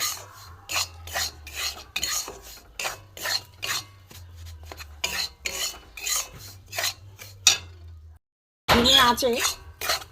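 Rice flour frying in ghee over low heat is stirred with a utensil, producing a close series of rhythmic rasping scrapes against the pan, a brief silence, then a final louder burst of scraping.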